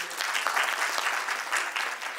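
Audience applause at a religious spiritual gathering, a dense steady clapping from a crowd that fills the whole moment without a break, fairly loud and close.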